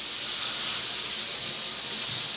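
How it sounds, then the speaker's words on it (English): A newly installed shower in a renovated bathroom runs at strong flow, a steady loud hiss of spraying water with no break. "We're gonna turn that shower on."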